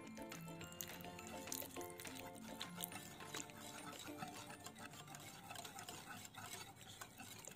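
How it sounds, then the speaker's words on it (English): Ingredients stirred with white vinegar in a bowl for a cranberry chicken filo dish give off a steady run of soft scraping and sloshing, close and continuous, with light clinks from a utensil. "Make sure to stir these ingredients around properly"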